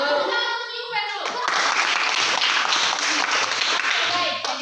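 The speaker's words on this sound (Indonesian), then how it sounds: "tepuk tangan untuk Yuven dulu" A classroom group claps for a student, a dense burst of applause that swells after a brief pause and holds for a few seconds before fading, with young voices mixed in.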